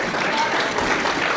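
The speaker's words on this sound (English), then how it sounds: "I was expecting applause after that." An audience at a memorial service breaks into applause, a dense, steady wash of many hands clapping at once, filling the room without a break.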